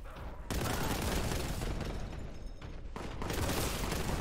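Enemy gunfire in Warhammer 40K: Boltgun rattles in dense, continuous bursts, loud and close, with a brief lull midway before the shooting swells again.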